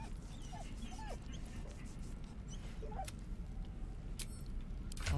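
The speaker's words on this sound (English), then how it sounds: "Pet the puppy." A puppy in the Baldur's Gate 3 video game whimpers and yips softly as it is petted, small high cries scattered over a steady low background hum, with faint talk in places.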